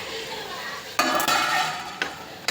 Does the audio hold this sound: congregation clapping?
no